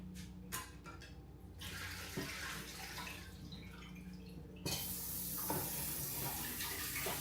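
Water runs from a tap while a French press is rinsed out, a steady close rush with spattering that swells louder partway through and carries on to the end, with no voices.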